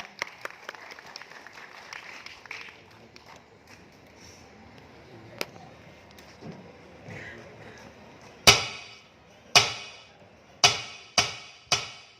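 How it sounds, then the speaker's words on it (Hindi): At a Bollywood-themed film city park, scattered faint sounds give way to a handful of sharp, loud, separate claps near the end, close and spaced unevenly rather than a full crowd's applause. "तो जोरदार तालियां हो जाए।"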